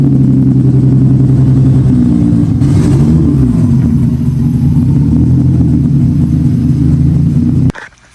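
A 2JZ-swapped Nissan Z32 rumbles loudly at close range as it creeps forward, its engine holding a steady low drone that wavers slightly before cutting off abruptly near the end.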